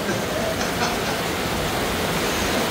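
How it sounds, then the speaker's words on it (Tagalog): Heavy rain pours down in a dense, unbroken roar, with faint voices blended into the wash of noise. "lakas ang maulan"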